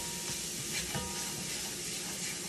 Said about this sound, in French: Je vais mélanger un instant.